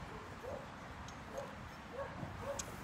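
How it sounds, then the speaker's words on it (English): A dog with separation anxiety barks indoors, heard faintly from a backyard as a few short, muffled yips spaced a second or so apart over quiet outdoor ambience. "I hear Brady barking in the house because of his separation anxiety"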